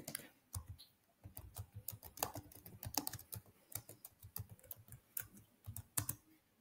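Fingers type on a computer keyboard in quick, irregular bursts of light clicks and taps, faint and close, with no other sound around them.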